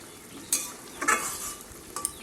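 Lote fish being stirred and fried on a high gas flame to dry off its water, a soft sizzle broken by a few sharp scrapes and clinks of the spatula against the pan, close and fairly quiet, without talking.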